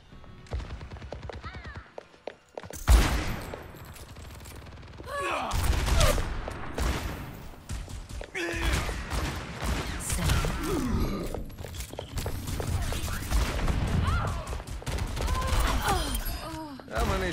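Revolver shots from McCree in Overwatch 2, a string of sharp bursts with game effects and a voice talking over parts of it.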